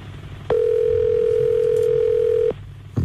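A telephone ringback tone plays while a caller waits for an answer, a single steady tone lasting about two seconds, clear and moderately loud over a quiet background.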